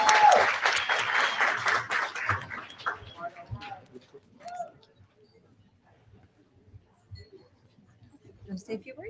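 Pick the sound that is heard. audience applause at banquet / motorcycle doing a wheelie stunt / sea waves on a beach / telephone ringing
audience applause at banquet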